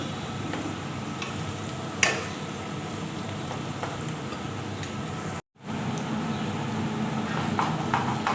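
Onions frying in a pan for mutton pulao: a steady close sizzle with occasional stirring clicks and light scrapes. A brief dropout cuts it in the middle.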